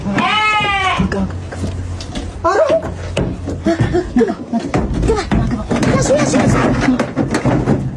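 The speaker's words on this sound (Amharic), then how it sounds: "አዎ በግ ይሄ ነው።" Sheep bleating in a lively outdoor setting, a clear wavering bleat near the start followed by shorter calls, heard over busy crowd chatter and several people talking loudly throughout.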